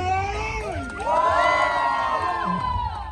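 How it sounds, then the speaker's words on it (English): Wedding guests cheering, whooping and shouting in a lively crowd, a loud continuous swell of voices with rising and falling whoops. "clap, please clap, and make some noise"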